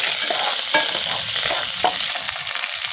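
Cumin seeds and curry leaves fry in hot oil, a loud, close crackling sizzle with brief spatula scrapes through it.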